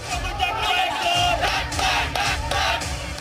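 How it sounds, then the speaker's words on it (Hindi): A large crowd of protesting students shouts together in a street in Dhaka, a dense, continuous roar of raised voices with rising chant-like swells, loud and close throughout. "ढाका में हजारों छात्रों की भीड़ सड़क पर है।"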